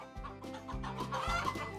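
Free-range hens clucking on a small farm, a few low rhythmic clucks repeating close by, fairly quiet and with no talking.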